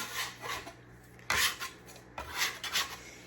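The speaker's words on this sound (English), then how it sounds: "So we just take our bench scraper," A bench scraper lifts sourdough out of its container, giving soft rasping scrapes in two main bursts against the container walls, close and fairly quiet, with no talking.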